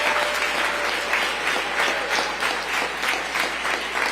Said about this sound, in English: Y'all can give the mayor a round of applause as he enters the room.